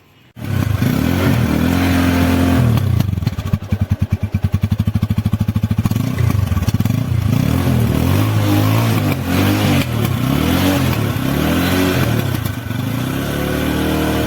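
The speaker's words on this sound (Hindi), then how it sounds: "तो अभी मैं इन दोनों की आपको एग्जॉस्ट की साउंड सुनाता हूँ।" A TVS Apache 180 motorcycle engine cranks and fires, then idles loud and close with a steady throbbing exhaust beat and a few throttle blips, alone without talk.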